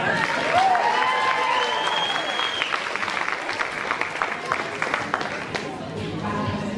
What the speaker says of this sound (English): Give a round of applause for him too.